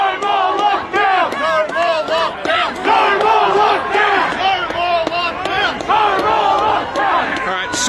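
Protesters march down a Melbourne street blocking traffic on a Saturday in September 2021, a dense crowd shouting and chanting loudly and continuously, with many voices overlapping close by.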